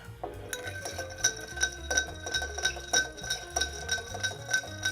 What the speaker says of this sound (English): So I'll give that a stir.